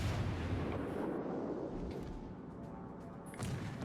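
A naval cruiser fires armour-piercing shells in World of Warships: Legends, the guns giving heavy, booming blasts over a dense rumble that fades midway, then another burst near the end.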